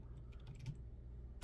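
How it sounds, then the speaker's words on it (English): Faint, quick taps of typing on a computer keyboard, a brief cluster of keystrokes over a low background hum, with one last click at the end. "I am typing to get some pictures to give you some context."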